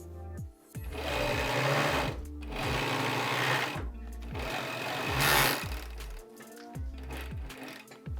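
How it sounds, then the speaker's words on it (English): A sewing machine stitches basketball jersey fabric with white thread in short bursts of rapid mechanical chatter. The bursts start and stop several times with brief pauses between them. The sound is close and moderately loud, and a few faint words can be heard. "on this one I'm gonna be sewing with the white thread"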